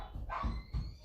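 A dog barks a few times in the background of a home with children, short muffled yelps rising over low household noise.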